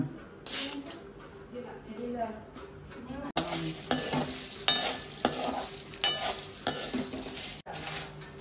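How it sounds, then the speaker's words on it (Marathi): Whole spices for Kolhapuri masala roasting in a little oil, a close sizzle with frequent spoon scrapes and clinks against the pan, a voice talking through the first half. "हा सर्व खडा मसाला आहे तो तेलामध्येच भाजायचा आहे"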